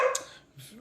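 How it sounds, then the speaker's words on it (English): A dog barks once, sharp and close, then gives a softer short yip or whimper a moment later, with nothing else around it. "That's my dog, Charlie, right there."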